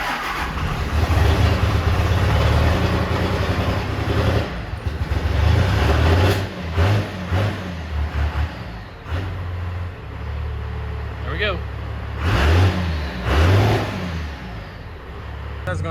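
A 12-valve diesel truck engine cranks and runs, its low rumble surging through several revs over about sixteen seconds, loud and close, with faint voices in the background.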